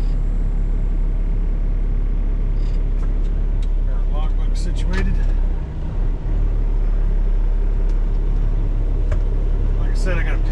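A semi truck backs out of a spot, its steady low diesel rumble continuous and close, with faint clanks and beeps over it and someone speaking intermittently.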